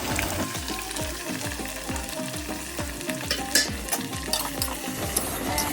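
Chopped onion and garlic with whole cumin fry lightly in a pan for mutton curry, a busy sizzle under a regular rhythm of spatula scrapes and stirring strokes, near and fairly loud with no speech.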